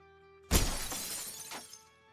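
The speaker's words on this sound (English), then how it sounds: "Very distinctive glass sound." In the video game Quasimorph, a pane of glass shatters with one sharp crash, then shards tinkle and scatter for about a second and a half before fading.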